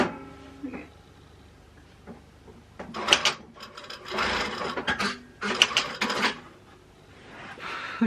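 Sewing machine running a straight stitch, short bursts of rattling mechanical whirring separated by pauses, with some talking in between.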